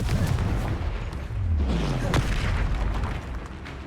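A Confringo blasting spell explodes in the Hogwarts Legacy video game, a deep booming blast with rumbling low end and a sharp crack near the middle, loud and close over continuous game noise.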